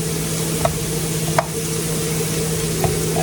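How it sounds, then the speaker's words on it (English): Butter melts in a pan for a roux, giving a gentle continuous sizzle under a steady hum, with a few faint clicks of a utensil. "Now we're going to start with making a roux. So I'm going to add some butter to this."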